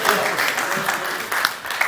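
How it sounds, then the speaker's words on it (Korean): Applause at a railway veterans' association gathering as a speaker is welcomed to the podium, a loud, dense crowd clapping throughout with some voices underneath. "박수로 맞아주십시오"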